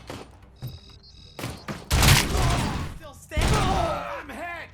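Sturmgewehr 74 automatic rifle in the video game RoboCop Rogue City, loud bursts of gunfire with heavy thuds and impacts amid game effects, a voice talking in between.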